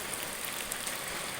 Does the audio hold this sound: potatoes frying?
no